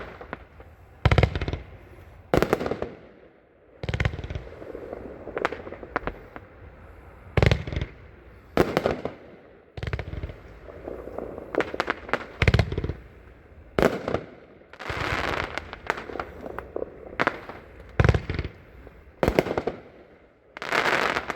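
A 36-shot window-style fireworks cake fires off a long run of sharp, booming bursts at uneven intervals, some crackling between shots, heard from a moderate distance without talk.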